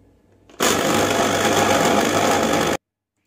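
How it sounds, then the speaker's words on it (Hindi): Electric food chopper whirring as it chops chicken, a loud continuous motor roar starting abruptly and cutting off sharply after about two seconds, close and alone without talk. "ये चिकन जो है इसे हमें अच्छे से चॉप कर लेना है चॉपर पे डालकर"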